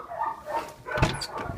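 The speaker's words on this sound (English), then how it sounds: "the dogs are barking" Dogs bark in a few separate bursts, fairly close and moderately loud, with quiet gaps between them, near a Saab 900 Turbo.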